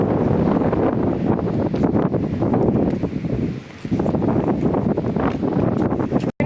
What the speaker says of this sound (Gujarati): પણ પવન બહુ છે.